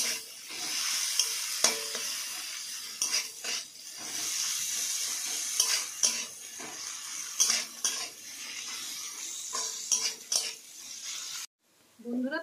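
Onions frying in a pan with a little salt while a spoon stirs them, giving a steady close sizzle broken by repeated scraping clinks of metal against the pan.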